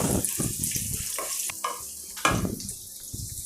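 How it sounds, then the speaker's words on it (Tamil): Sliced onion frying in hot oil while being stirred in a pan, a close, crackling sizzle with scraping stirs and a few short clinks. "இதில் வெங்காயம் போடலாம். நீளமாக கட் பண்ணது ஒரு வெங்காயம்."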